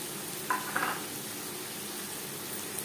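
Garlic sizzles quietly in a pan of cooking taro leaves with chickpeas and coconut, a soft steady fry with a couple of light clinks from a spoon or pan early on.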